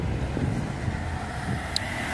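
Steady outdoor wind on a sunny day blowing and buffeting the microphone in a continuous rough rush, with no distinct sounds standing out.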